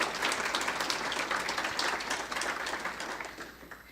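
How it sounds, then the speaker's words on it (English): Applause from an audience at a literary journal's annual publication debut, honoring an award winner who is not present; steady dense clapping for about four seconds, moderately loud and easing slightly at the end. "let's have applause for her"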